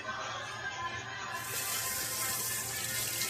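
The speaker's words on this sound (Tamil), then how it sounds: "குக்கும்பர் கழுவு." Running water from a tap pours steadily as a cucumber is washed, a continuous close hiss that swells slightly after the first second, with no clear talk over it.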